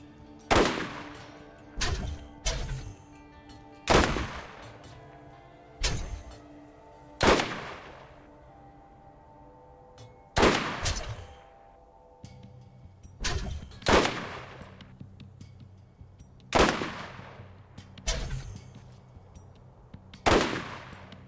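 Gunfire from a Borderlands firefight against turrets, a series of loud sharp gunshot bursts at irregular intervals, each with a decaying tail, with no speech.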